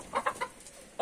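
Asil Hint rooster and hens of a small breed give a few short clucks close by, four quick calls in a brief burst followed by a pause and one more.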